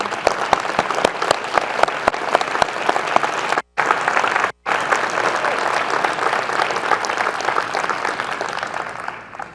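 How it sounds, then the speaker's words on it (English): A large audience at a bioscience awards event applauds elected officials, with loud, dense and steady clapping that fills the whole stretch and briefly cuts out twice. "we will give you a round of applause"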